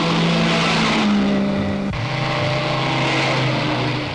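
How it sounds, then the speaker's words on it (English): Race cars thunder along the road during the Mille Miglia in the 1950s, a loud, steady engine roar that shifts down in pitch midway as a car sweeps past close by. "And here comes Moss, well out in front with the leaders."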